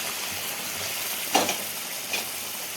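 Hot water poured onto meat frying in a pan for a home dinner, a steady sizzle with a couple of sharp bursts of bubbling and spattering as the water hits.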